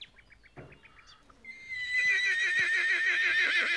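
A horse whinnies loudly and long after a few soft clip-clop hoof sounds and small clicks, heard in an animated Playmobil toy-figure riding outing.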